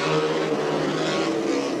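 Speedway motorcycles race in a league meeting, their engines roaring loud and steady with a dense, continuous drone and no breaks.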